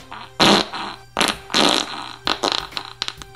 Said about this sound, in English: I actually recorded a rapid-fire fart in the hallway